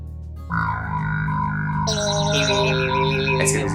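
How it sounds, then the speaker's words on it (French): Warbling, heavily effected synth tones with distortion and chorus, like a cartoon alien signal, sound over marshmallows cut into cubes for a galaxy recipe; a steady sustained drone that steps upward in pitch midway and stays loud for a few seconds. "c'est juste la guimauve qui fait le bruit des extraterrestres parce qu'on est dans la galaxie"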